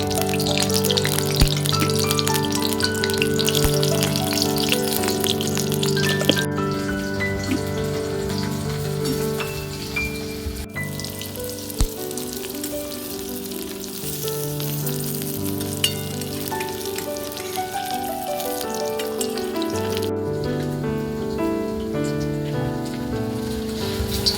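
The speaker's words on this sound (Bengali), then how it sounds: "কলাগুলো এক করে দিয়ে ভেজে নেব" Raw banana pieces fry in white oil in a wok, making a constant close sizzle with bubbling crackle that runs unbroken and fairly loud, without any talk.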